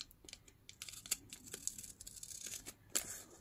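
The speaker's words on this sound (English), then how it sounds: "I can grab my scissors and cut just behind these kind of like, what is it? Airmail" Scissors cutting paper along the airmail-striped edge of a vintage letter, a run of close, crisp snips and rustling paper crinkles with a sharper cut near the end.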